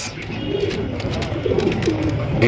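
Pigeons for sale, fancy and racer breeds kept in cages, coo softly in a low repeating murmur under steady background hiss, with scattered faint clicks and no talk.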